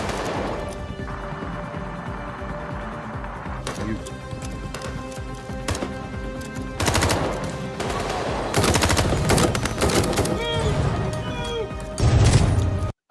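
Gunfire crackles through a short-film firefight, with bursts of rapid shots and sharp cracks coming in clusters over about thirteen seconds, growing louder toward the end, while voices shout beneath the shooting.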